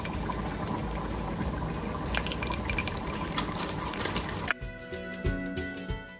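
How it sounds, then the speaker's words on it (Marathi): Dry fruits sizzling in a spoonful of hot ghee, a steady close crackle and hiss that drops abruptly to a quieter, sparser sizzle with light stirring near the end. "एक चमचा तूप त्यात आता घालूयात थोडेसे ड्रायफ्रूट्स आणि परतून घेऊयात"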